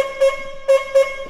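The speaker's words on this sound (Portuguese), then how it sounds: "Uma buzina imponente aqui." A Peugeot 106 car horn honks three times in quick succession, loud and close, each a short, bright, buzzy blast.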